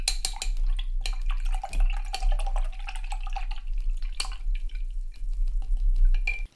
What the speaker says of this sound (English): And I'm gonna rinse my brush out.